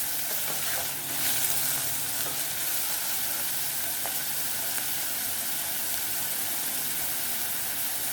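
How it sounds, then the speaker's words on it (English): A clove of garlic and chili browning in a pan for a tinfish samoosa filling, giving a steady close sizzle and hiss of frying oil that runs without pause and without talk. "And the clove of garlic. Allow that to brown a few minutes."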